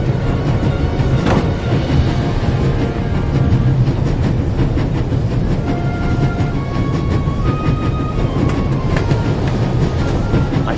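A moving train in the video game The Raven rumbles steadily with rhythmic clickety-clack of the wheels and occasional squeals and creaks, a loud continuous ride with no talk.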